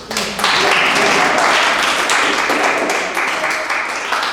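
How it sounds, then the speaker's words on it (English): An audience claps in a sustained, dense round of applause that starts abruptly and holds at a steady, loud level to the end, with a voice faintly mixed in. "let's have a round of applause"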